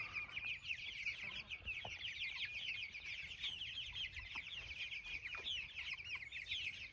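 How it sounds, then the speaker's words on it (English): Hens clucking and murmuring continuously with occasional sharper calls, moderately close, over a busy background of chirping birds. "The hens have discovered the young birds."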